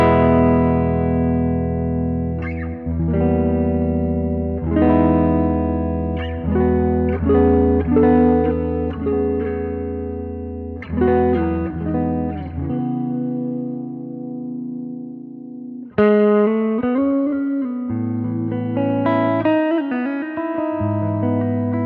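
Electric guitar on a clean amp channel with all controls at noon, tremolo off and reverb on, plays jazzy chords and short melodic lines, a pause near the middle, then further chords, steady and close.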